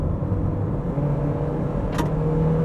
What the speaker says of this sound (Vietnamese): cái tiếng động cơ dội vào khoang cabin thì chúng ta nghe khá rõ